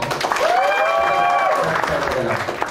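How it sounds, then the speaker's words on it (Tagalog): An audience claps on request at a seminar, a steady round of applause with whoops and raised voices over it, and a voice speaking briefly in the middle. "Sample nga ng palakpak dyan."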